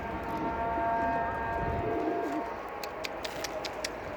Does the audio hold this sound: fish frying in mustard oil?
no